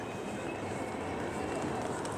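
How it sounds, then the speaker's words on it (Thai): A tram passes along a city street in Amsterdam with a continuous rolling rumble and rattle of wheels on rails, fairly close and steady throughout. "จะมีอันนี้นะคะเป็นรถรางเป็นแทรม"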